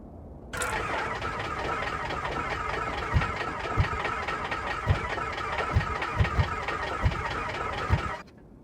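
A starter cranks the engine of an Aerostar 600 aircraft in a flight simulator for several seconds, with a handful of sharp pops as it fires and kicks without catching.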